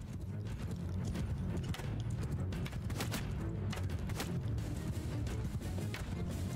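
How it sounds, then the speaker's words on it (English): Many horses gallop across a battlefield in Mount & Blade II: Bannerlord, their hooves forming a dense, continuous clatter of overlapping clip-clops, moderately loud and busy from start to finish. "A ton of horses, which I'm not used to."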